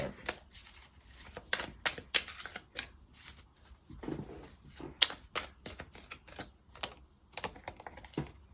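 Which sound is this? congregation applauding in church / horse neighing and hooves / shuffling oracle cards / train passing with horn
shuffling oracle cards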